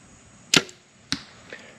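Two crisp snaps from a Mathews compound bow drawn at 75 pounds and loosed with a thumb button release, each a sharp close release, the second followed by a fainter distant thud.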